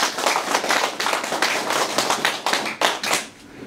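An audience at a clan association's chairman inauguration claps in gratitude, distinct individual hand claps in a loose, uneven rhythm that thin out toward the end.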